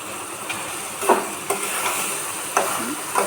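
A spoon stirs a pot of curry just finished with butter and coriander leaves, a soft sizzle running throughout while several scraping knocks land against the pot.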